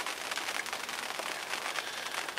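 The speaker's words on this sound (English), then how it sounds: "it's just started raining again" Rain falling at a lakeside carp-fishing swim on a Linear Fisheries lake, a steady soft patter and hiss of drops on surfaces, continuous and fairly quiet, with no voices.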